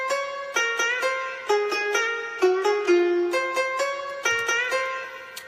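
A plucked Chinese guzheng sample from Logic's ESX24 sampler plays a melodic phrase of about a dozen notes, each a sharp pluck that rings and decays, some bending in pitch, clear and alone.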